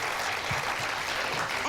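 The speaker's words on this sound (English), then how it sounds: "Let's give him a round of applause" Applause for a pen maker from a small event audience, a dense, steady wash of clapping that stays even and moderately loud throughout without breaks.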